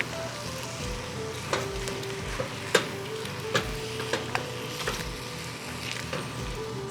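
Mushroom and onion soup sizzles in a pot while being stirred, with a steady frying hiss and scattered soft clicks and scrapes of the spoon against the pot, fairly quiet and with no talking.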